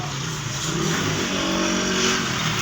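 A motorcycle engine revving nearby, a dense continuous mid-pitched roar with a slight swell in intensity over a few seconds, steady and fairly loud with no talking.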